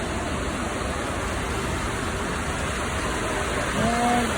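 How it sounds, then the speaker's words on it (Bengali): Rain falling steadily outdoors among garden plants, a constant even hiss with no speech, and a brief faint tonal sound near the end. "দেখা যাচ্ছে তাই না, মানুষজন সব বৃষ্টিতে ভিজে"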